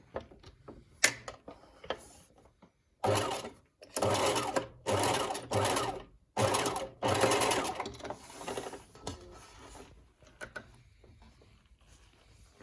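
A sewing machine stitches a diagonal seam across a bias-bound cuff in several loud bursts of rapid mechanical whirring, separated by short pauses and faint clicks of handling.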